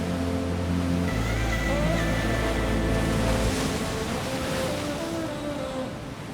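Strong ocean waves pound a wild beach at Playa de Nogales on La Palma in the Canary Islands, a loud, continuous roar of surf with heavy low rumble and no voices.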